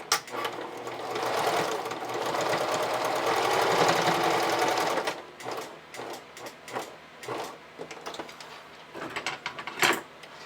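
A sewing machine backstitches a seam on a camisole, running a steady burst for about five seconds, then continuing in short, stop-start runs as the stitching goes back and forth.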